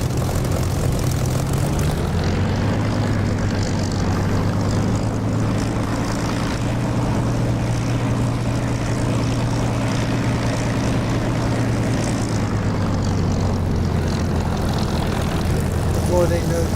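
Spitfire propeller aircraft taking off in the DCS flight simulator, its piston engine a loud, steady droning roar that holds throughout with a slight shift in pitch.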